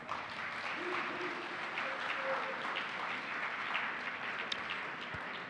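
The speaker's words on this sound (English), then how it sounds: "And a round of applause." A room of attendees at a technology summit gives a round of applause, a soft, distant and steady wash of clapping that holds evenly throughout with faint crowd murmur beneath.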